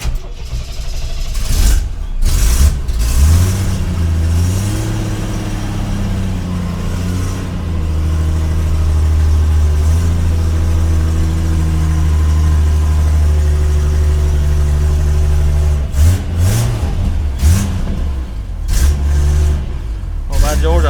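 A 1958 Cadillac V8 cranks and catches with loud revving bursts, then runs at a rough, uneven throttle, close up and loud, as people talk over it.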